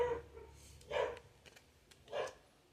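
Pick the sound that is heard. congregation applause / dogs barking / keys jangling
dogs barking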